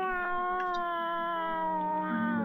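A sustained, drawn-out meow-like vocal tone with a steady harmonic pitch, close and loud, apparently a person imitating a cat.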